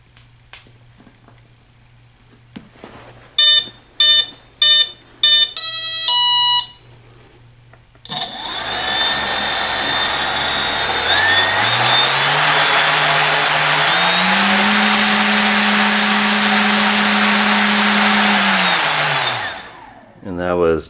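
Skywalker AX2814 brushless motor on an AX 40A ESC, powered by a 14.8V 5000 mAh Venom battery. Several short startup beeps come first, then a loud, steady whine that climbs in pitch from part throttle to about three-quarter throttle and winds down.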